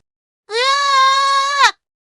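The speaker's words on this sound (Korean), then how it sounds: "3살 딸의 날카로운 비명소리가 터져나왔어요" A three-year-old girl lets out a sharp, sustained, high-pitched scream after hot soup spills on her hand; the cry is loud and close, lasting a little over a second and ending abruptly.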